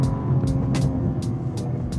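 BMW Alpina B3 exhaust crackling on the overrun after lifting off the throttle: several short, sharp pops at irregular intervals over a steady engine drone, recorded from inside the moving car.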